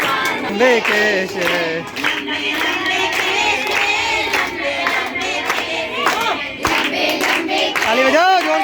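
A crowd claps along to a Hindi devotional bhajan at a Ganesh Chaturthi community gathering, steady rhythmic hand claps under loud singing voices, continuous and close.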